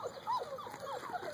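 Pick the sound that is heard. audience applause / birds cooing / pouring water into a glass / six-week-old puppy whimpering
six-week-old puppy whimpering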